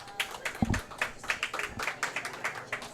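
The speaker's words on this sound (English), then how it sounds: "Let's give him a round of applause." A small studio audience at a Bluefield College coaches show claps for the head coach, sparse individual hand claps at an irregular rhythm, fairly faint and close.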